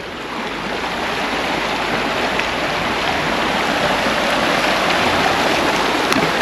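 Fresh mountain stream in the Albanian Alps at Theth, water rushing and splashing steadily at close range, a loud continuous broadband wash with no voices over it.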